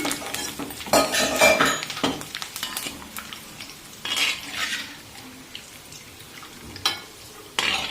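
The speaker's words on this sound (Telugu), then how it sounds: "కరివేపాకు కూడా కొంచెం వేపేస్తున్నానండి" Farmhouse curry leaves fry in a pan, making bursts of crackling sizzle with a few metal clinks and stirring scrapes. The sound is close and loud at first, then settles into a quieter hiss, and no one speaks.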